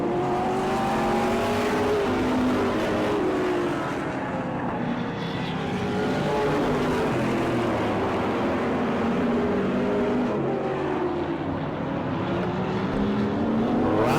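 A pack of race cars laps a short oval track at a season-opening race, engines droning loudly and continuously as the field swings through turns three and four, the pitch rising and falling as cars pass.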